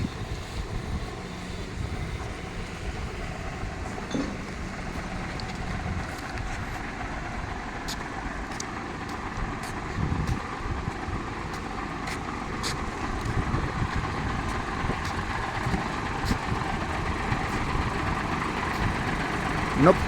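Engines of returning work vehicles, including a tractor, rumble and idle steadily as they pull in, with a low continuous drone and some wind noise throughout.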